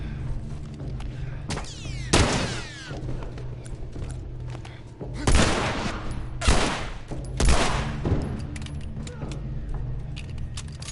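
Gunfire from The Last of Us, played on Grounded difficulty: several loud, sharp gunshot bursts spaced a second or more apart, over a steady game background hum with mechanical clicks.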